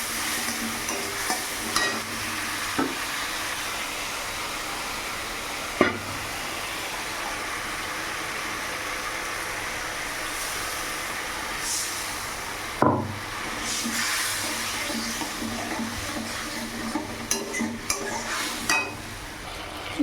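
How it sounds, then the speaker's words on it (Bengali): Masala with turmeric and salt being stir-fried in oil in a pan, a steady close sizzle punctuated by occasional spoon knocks and scrapes against the pan, without speech. "দিয়ে মশলাটা এবার একটু ভালো করে কষিয়ে নেব।"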